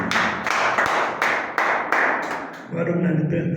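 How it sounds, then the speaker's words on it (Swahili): A church congregation applauding, several rhythmic bursts of loud clapping from a crowd in a reverberant hall, then a voice begins speaking as the clapping stops. "Kwenye maisha yako tupe makofi mazuri."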